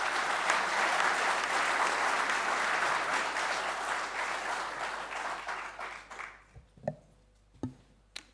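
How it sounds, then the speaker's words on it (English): Audience applause at a technology partners event, loud sustained clapping for about six seconds that thins out into a few scattered final claps. "Can we please give them a round of applause?"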